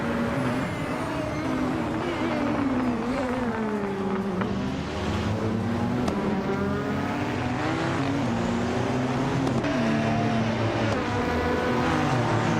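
Several race car engines roar together in a racing video game, their overlapping revving tones rising and falling steadily and loudly for the whole stretch, with no talk over them.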